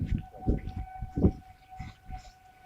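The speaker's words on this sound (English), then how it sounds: "I've never heard a siren this loud." Loud civil defense siren sounding during a tornado warning test, a steady high wail held throughout with low rumbling pulses and handling noise beneath it, no talking.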